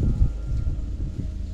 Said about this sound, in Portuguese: Tá ventando, ó.